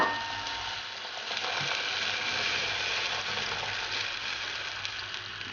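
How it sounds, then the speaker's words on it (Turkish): Hot water poured over meat in a hot pot for Azeri pilaf, rising into a loud, steady hissing and bubbling boil that continues evenly throughout. "Hemen kaynamaya başladı."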